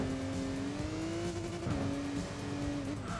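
A touring car in the racing video game Enthusia Professional Racing gives a steady, loud, trumpet-like naturally aspirated exhaust drone, with a brief pitch dip in the middle and tire noise underneath.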